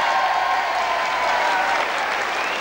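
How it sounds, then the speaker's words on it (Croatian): An audience at a 1995 evening of humour in Imotski claps loudly and steadily, a dense, continuous wash of applause throughout. "još jedan aplauz za Ivicu Mila."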